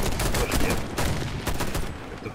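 Rapid gunfire in the online shooter Warface during a PvE match, sharp repeated shots in quick bursts, loud and close throughout.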